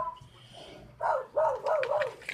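Dogs bark in a few short, loud bursts partway through, fairly close and with no talk over them, outdoors while a radio-controlled car is being driven.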